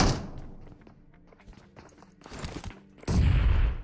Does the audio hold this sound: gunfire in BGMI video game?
yes